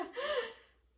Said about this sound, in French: Là, on entend sa respiration.